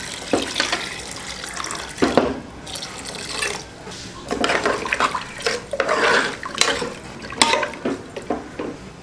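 Water pours into a pressure cooker holding ginger-garlic paste, turmeric and salt, splashing in irregular bursts that swell and fade as the stream starts and stops, close by.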